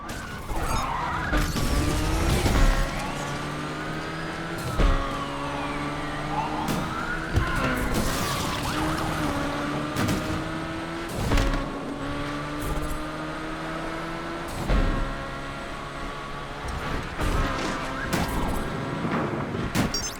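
Race cars in the Need for Speed Unbound video game roar with rising and falling engine pitch through gear shifts, tires skidding and sharp impacts, loud and continuous throughout a street race.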